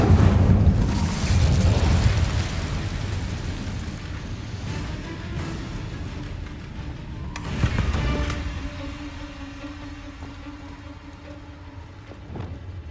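Fiery spell bursts in the video game Hogwarts Legacy: a loud, rumbling whoosh opens, then a second surging blast about two-thirds through, over a steady hum of game ambience.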